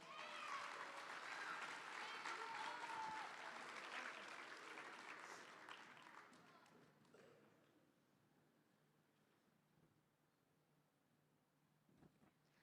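Applause from a school recognition audience for sixth-grade Pride Award winners, dense and steady for about six seconds before thinning into scattered claps and room murmur.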